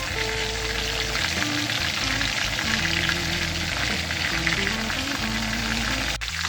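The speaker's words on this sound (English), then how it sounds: "I'm frying up my, I have 3 pieces of meat inside still" Steady, loud sizzling of chicken and vegetables frying in hot oil for Jamaican brown stew chicken, crackling continuously throughout with no talking.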